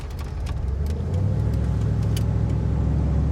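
A 1986 Ford F150 XLT Lariat pickup engine runs steadily while driving, a low, rich continuous rumble that swells slightly after the first second and then holds even and close.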